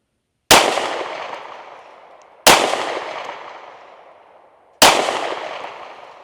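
Three sharp, loud pistol shots from a Canik Mete MC9L firing Hornady defensive ammunition, evenly spaced about two seconds apart, each a hard crack followed by a long ringing decay outdoors, with no talking.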